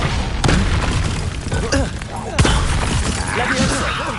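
Repeated booming blasts from Expulsor and other spell impacts during Hogwarts Legacy combat, loud and close, with a sharp crack near the start and another midway, over constant rumbling battle noise.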